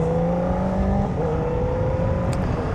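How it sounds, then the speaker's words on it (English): A 2025 Yamaha MT-07 motorcycle engine hums steadily while riding, with a smooth tonal drone that shifts pitch slightly, heard close alongside continuous wind rush and no talking. "that motorcycle sounds very good"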